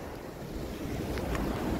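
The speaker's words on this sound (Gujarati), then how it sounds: "તો જો પાછળ ફૂલ પાણી જાય છે" A river swollen by heavy rain in a village rushes past as a steady, close, broadband roar, with gusty wind buffeting the microphone throughout.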